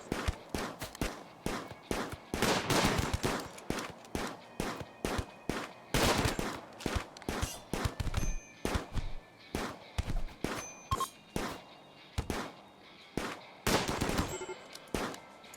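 Gunfire from a firing line in RimWorld: rapid repeated shots in bursts, some dense volleys and some single cracks, loud and sharp throughout, with no talk.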